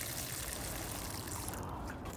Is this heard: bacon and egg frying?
no